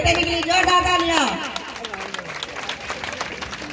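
Audience at a school stage play clapping in a brief burst, loud at first and then fading, with voices and babble mixed in.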